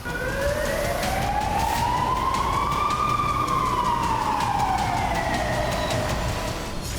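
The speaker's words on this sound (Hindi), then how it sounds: "इजराइल के कई शहरों में लगातार सायरन बज रहे हैं" An air raid siren in an Israeli city wails continuously, its pitch rising slowly then falling in a long sweep, loud and steady with traffic rumble underneath.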